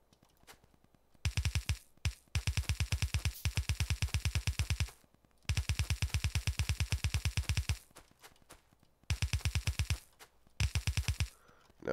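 Gun turrets in Factorio fire at an incoming attack, loud rapid automatic bursts in several long strings separated by short gaps, with no voices.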